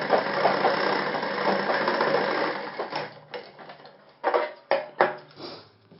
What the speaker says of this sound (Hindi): और ये मैं सिलाई लगा देता हूँ